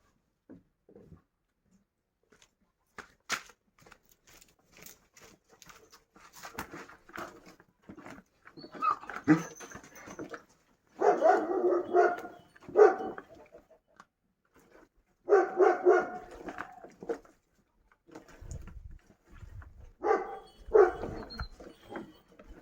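Kangal dogs bark in short clustered bursts with quieter whining in between, separated by near-silent gaps, while waiting to be fed.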